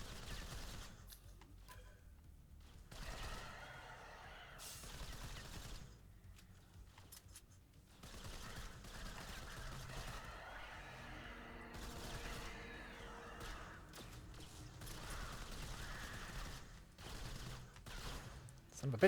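Rapid gunfire from the retro first-person shooter video game Strafe, with dense overlapping bursts and rattling shots running almost continuously at steady loudness, briefly thinning near the start.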